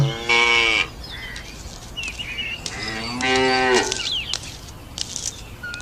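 A cow moos twice nearby, long drawn-out lowing calls separated by a short pause, with faint background rustle between them.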